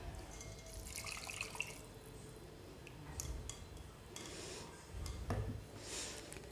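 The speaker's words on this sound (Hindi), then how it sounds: "जो हमारा बचा सा मटेरियल हमने उसको ग्राइंड कर लिया है, और इसको भी हम इसमें यखनी में स्ट्रेन कर देंगे।" Ground leftover spice mix strained into a pot of rice stock (yakhni) for beef pulao, giving quiet, soft liquid pours and faint drips with light rubbing and scraping, close by and low in level, with no talking.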